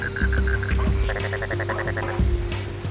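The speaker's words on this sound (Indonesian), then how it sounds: "Suara katak terdengar dari kejauhan." Many frogs croak in a dense chorus in a Kalimantan forest at night, rapid pulsing calls overlapping with steady insect trilling, loud and close rather than distant.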